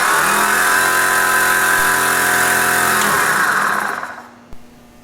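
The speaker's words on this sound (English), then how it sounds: "flip the knob to the compressor setting and turn it on" A Warn PowerPlant air compressor mounted on a Jeep TJ runs with a loud, steady mechanical whine up close, then winds down and cuts off with a soft click near the end.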